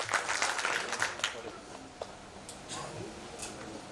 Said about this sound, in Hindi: एक बार जोरदार तालियां बजा करके इस्तकबाल करें।